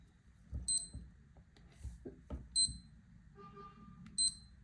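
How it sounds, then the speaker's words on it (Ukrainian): Button presses on a North Edge Tank3 compass watch give three bright electronic beeps spaced about 1.7 seconds apart, mixed with soft clicks and handling noise close up, with no talk. "Затискаємо верхню ліву кнопку і правими кнопками регулюємо потрібний нам час."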